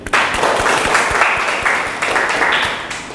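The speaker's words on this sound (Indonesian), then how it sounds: "Silakan diberi aplaus." An audience at a university lecture presentation gives steady, fairly close applause, a dense wash of clapping lasting about three seconds without a break.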